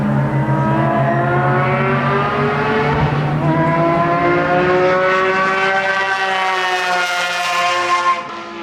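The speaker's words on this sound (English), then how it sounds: "He's got a GT4 with an absolutely mental exhaust." A GT4 race car with an extremely loud exhaust on a race track roars close by, its engine note climbing steadily in pitch as it accelerates for several seconds before easing off at the end.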